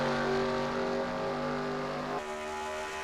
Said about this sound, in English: You can hear when they go by the speed shot there, you can tell how much they get out of the throttle going into that corner now.